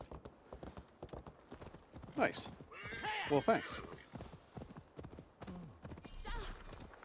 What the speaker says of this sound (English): Hello, horse.